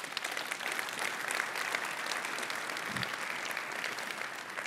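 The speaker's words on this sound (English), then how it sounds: "let's give them a round of applause again" Sustained audience applause at a large tech keynote event, dense and steady clapping from a crowd filling the whole stretch without pause.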